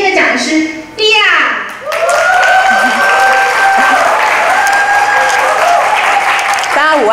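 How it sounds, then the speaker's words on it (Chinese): Loud audience applause fills a Toastmasters District 67 annual conference hall as the speaker is welcomed, swelling from a brief burst into steady sustained clapping with cheering and a whooping voice over it. "那接下来就让我们大家以热烈的掌声来欢迎今天的讲师莉亚"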